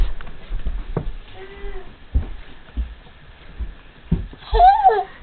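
A cat meows in a home, one short plaintive call in the middle and a louder one at the end, with a few soft thumps between them.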